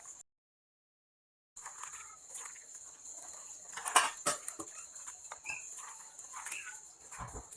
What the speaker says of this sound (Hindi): ये हमने सारा मसाला इसमें अच्छी तरह से मिक्स कर लिया है।